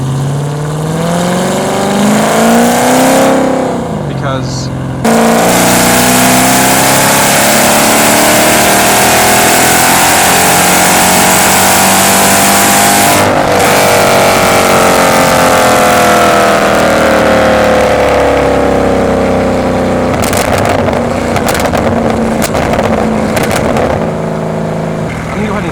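A Mercedes C55 AMG with Kleemann headers, straight pipes and valved mufflers held open drives a dirt road, its loud engine rising and falling through revs with a brief shift gap, plus one short spoken word.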